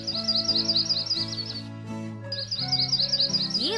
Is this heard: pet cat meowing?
no